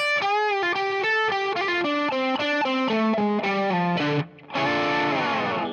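A distorted electric guitar plays a quick descending lick of single notes from a song, ending in a brief pause and a ringing, sliding final note.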